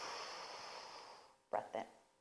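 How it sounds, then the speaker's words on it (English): During a breathwork session with abdominal exercises, a person draws a long, soft breath in. Two short, sharp nasal puffs follow, all quiet and close. "Breath in."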